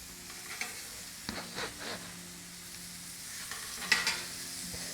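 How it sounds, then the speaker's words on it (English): Burgers sizzle on a Blackstone griddle, a faint steady frying hiss with a few soft clatters and scrapes scattered through. "now I'm gonna put these burgers on. Get a good nice sizzle."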